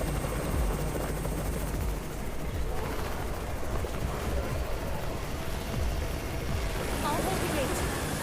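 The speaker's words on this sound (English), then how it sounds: "It's the Raven's chopper!" A rescue helicopter arrives in the zombie-survival video game Undawn, its rotor making a steady, loud broadband roar and low throb that fills the whole scene without easing.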